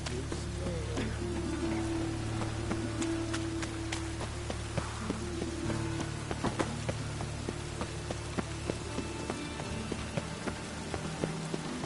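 Steady rain pours over a city street in The Witcher 3, a dense continuous hiss with occasional brief tapping and thudding accents, plus a low sustained hum underneath.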